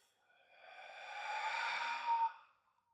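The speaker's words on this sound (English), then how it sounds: "let's start by taking an inhale through our nose and an exhale out our mouth" A single slow, soft breath, drawn in and then released in a long airy whoosh that swells and fades over about two seconds, close and quiet with no talk.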